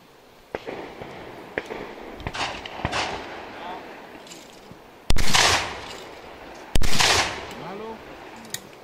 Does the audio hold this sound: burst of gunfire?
yes